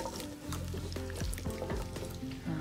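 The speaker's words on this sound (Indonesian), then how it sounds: "Nih, jengkolnya aku goreng dulu ya teman-teman dengan api yang kecil aja." Jengkol beans fry in oil over low heat, giving a short, steady crackling sizzle with small pops close by.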